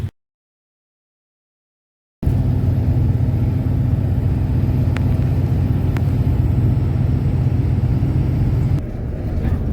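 An MSRTC ST bus on the Mumbai to Alibaug route pulls away from a brief stop at Chembur Maitri Park. A steady, loud, low engine rumble starts abruptly after a short silence and holds evenly, then eases slightly at the end.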